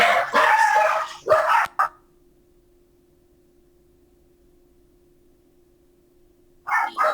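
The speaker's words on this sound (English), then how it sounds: "oh, the dogs are very upset" Several dogs bark in short, agitated bursts close by, two clusters at the start and another at the end, separated by a quiet stretch with a faint steady hum.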